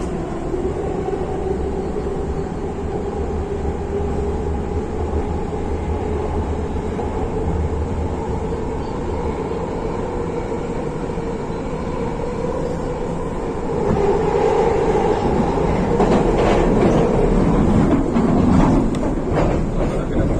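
Steady rumble and rattle of a Delhi metro train running on the rails at speed, loud and close from inside the car, growing harsher and more clattering toward the end.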